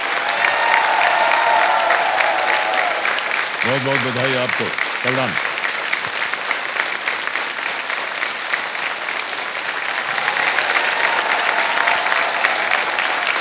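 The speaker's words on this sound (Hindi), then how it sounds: "तालियां बजती रहे इनके लिए।" Studio audience on the Hindi quiz show KBC Season 16 claps steadily for a fast-answering contestant, loud continuous applause with a host's voice cutting through briefly in the middle.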